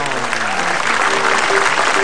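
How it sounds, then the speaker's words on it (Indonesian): A studio audience at a comedy talk show applauds steadily, dense clapping filling the room without pause, with voices mixed in underneath. "Tepuk tangan dulu dong."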